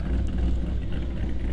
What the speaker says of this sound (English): GT86 with an LS3 Corvette engine.